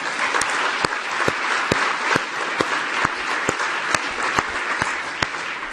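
Sustained audience applause at a lecture event fills the room, a dense wash of many hands clapping with a few sharper individual claps standing out, fairly loud and steady throughout.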